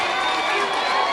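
A crowd applauds and cheers at a political campaign event in Pasto, Colombia, a dense, loud wash of clapping that fills the short moment.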